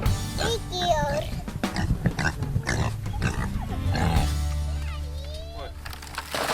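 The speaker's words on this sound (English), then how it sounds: "Now it's time to go feed the pigs." Pigs grunt and oink at feeding time on a farm, close and busy, with a voice and other people talking over the animals throughout.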